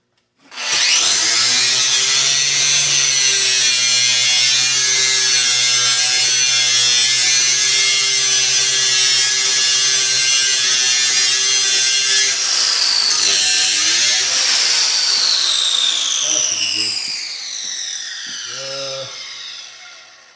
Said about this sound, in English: now I'm going to clean up these welds just a little bit